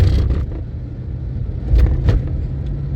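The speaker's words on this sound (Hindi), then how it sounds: "अभी हम इशारे में बाएं साइड पे गाड़ी मोड़ ली" Car driving and turning left toward an elevated ring road near a mountain, a steady low road rumble with engine noise and a few faint scrapes, close inside the vehicle.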